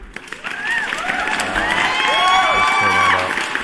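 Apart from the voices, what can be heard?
applause sound effect played on livestream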